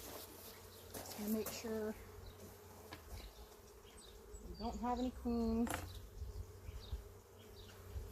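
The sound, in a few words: honey bees buzzing at the hive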